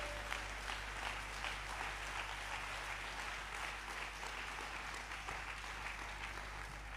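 An audience at a church service applauding steadily, a dense, even wash of clapping that holds for several seconds without a break, somewhat distant and soft.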